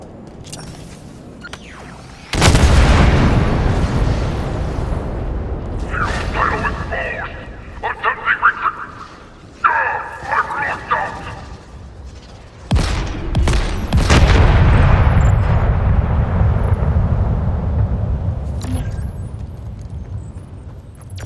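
Raised silos blow apart in Halo Infinite in a series of loud booms separated by gaps. Each blast trails off into a long rumble, and voices speak between the explosions.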